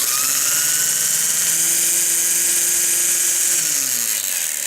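A Ryobi 18V brushless cordless string trimmer spins at high speed with a loud, steady buzzing whine over a strong airy rush, its motor pitch stepping up briefly, then dropping as it slows.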